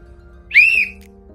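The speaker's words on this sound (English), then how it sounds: "and make a whistle" A tour guide's whistle on a city tour in Vigan, Ilocos Sur, gives one clear, loud, slightly rising blast lasting about half a second, standing out over a low steady background hum.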